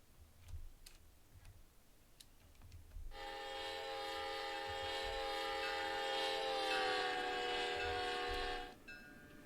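A train horn blares in one long, sustained tone for several seconds in the game Train Sim World, on the Northeast Corridor, with faint ticking before it and a steady rumble underneath.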